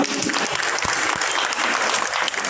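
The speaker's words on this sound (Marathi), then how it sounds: "त्यांच्यासाठी सगळ्यांनी जोरात टाळ्या वाजवा" An audience of women claps loudly and steadily to welcome visiting government officials at a senior citizens' health, yoga and cultural gathering, dense applause filling the room throughout with no one speaking.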